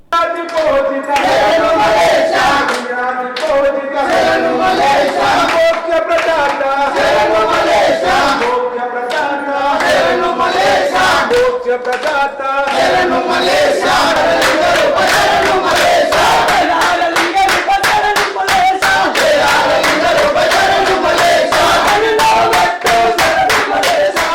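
Crowd of devotees at Shiva temples during Mahashivratri, a loud, dense continuous mass of voices with chanting shouts and rhythmic clapping, sustained throughout.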